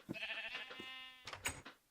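A Minecraft sheep bleats twice in a modded Terrafirmacraft world, a close, nasal, wavering baa followed by a shorter second cry, heard alone against quiet game background.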